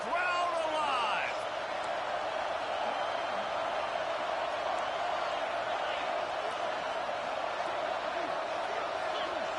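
A football stadium crowd roaring before a third-down red zone play: a dense, sustained wash of cheering from a large crowd, loud and constant throughout.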